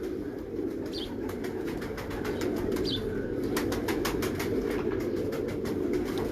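Pigeons of a Sialkoti breed coo in a steady low murmur, with brief bursts of wing flapping and clicking scattered over the continuous cooing, close and moderately loud.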